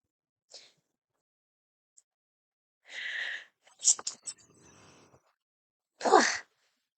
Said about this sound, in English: So many sneezes.